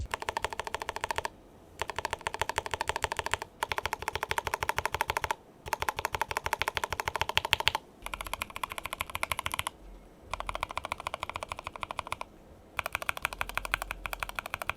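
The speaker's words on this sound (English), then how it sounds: "I'm gonna swap out a couple keycaps for some higher profile ones that tend to have a deeper sound, like these MT3 profile keycaps from Drop" Steady typing on an Everglide SK68 keyboard fitted with MT3 profile and silicone keycaps, bursts of rapid close keystrokes broken by short pauses, with no voices.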